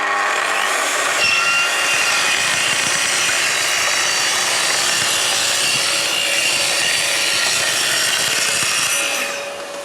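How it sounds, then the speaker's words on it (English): A Festool TS55 R plunge circular saw running along a guide rail cuts through a veneered board and its splinter guard, a loud, steady high-pitched whine with a rough cutting rasp lasting throughout, tapering slightly at the end. "let the machine build up speed, then we can plunge into the splinter guard"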